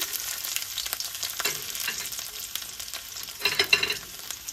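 Panch phoron frying in hot oil as chopped garlic goes in, a steady close sizzle and crackle that swells briefly near the end, with no talking.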